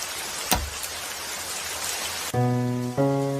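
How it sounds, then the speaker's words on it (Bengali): Rain falls at night in a steady broadband hiss, with one dull thump early on. A sustained tonal hum cuts in near the end over the rain. "বৃষ্টির রাত, চুরি করার মুখ্যম সময়"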